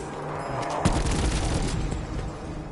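A weapon loaded with acid ammo fires in Call of Duty Black Ops 4 zombies mode, a sharp loud burst followed by a rapid rattling volley of shots and a rumbling tail.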